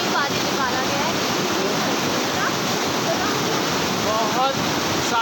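Icy mountain stream in Doodhpathri, Kashmir, rushing steadily with a dense, continuous broadband wash of flowing water close by, while voices speak faintly underneath.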